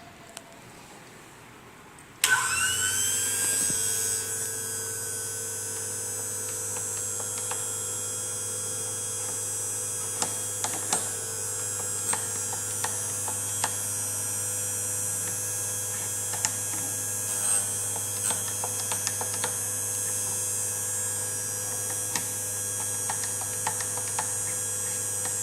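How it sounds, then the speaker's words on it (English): An end mill corner radius grinder machine switches on abruptly after a quiet start, then runs with a steady electric hum and whine, with faint scattered clicks and ticks as the end mill is sharpened. "Okay, now we finish sharpening"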